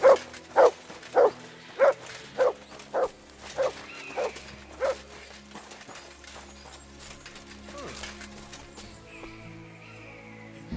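The dog Mutt in Kingdom Come Deliverance II barks about nine times in an even, steady rhythm, fairly close and clear, then fades into quieter game ambience with faint rustling and shuffling.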